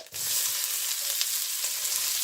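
Fennel seeds frying in hot oil give a steady, bright, close sizzle that starts abruptly and holds evenly throughout, with no talking.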